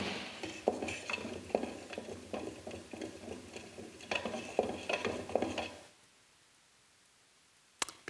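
Rhythmic scraping and clinking of a tool stirring primer for window glazing putty in a small can, close and quiet, stopping partway through before a single sharp tap.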